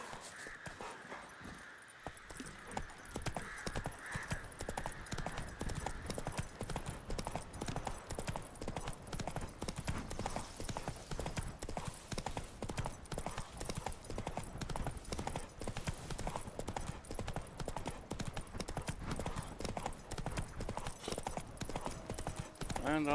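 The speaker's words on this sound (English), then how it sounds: "There's the horse." Steady horse hooves clip-clop at a brisk trot, evenly paced and continuous, with a faint tone hovering in the background early on, in the video game The Witcher 3.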